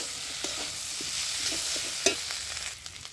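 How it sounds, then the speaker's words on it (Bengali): Potatoes and mushrooms stir-fried together in a pan for an Indian-style curry, a steady close sizzle of frying with scattered scrapes and clicks of stirring, one sharper clack near the middle, no voices. "এইবার আমি এর মধ্যে ভেজে রাখা মাশরুমটা দিয়ে দিলাম। তো মাশরুমটা দিয়েও আমি 2-3 মিনিট কষিয়ে নেব।"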